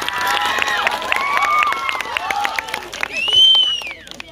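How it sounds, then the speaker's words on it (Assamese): An audience clapping at a tea garden workers' meeting, a run of scattered claps sounding beneath loud speech that carries over the top. "আপোনালোক সকলোৱে এটা হাত তালি দিয়ক"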